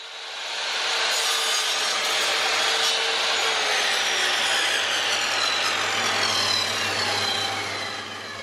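A miter saw making test cuts in wood for a frame joint, the blade spinning up and biting through the timber in one continuous loud, close whine that fades as the cut finishes.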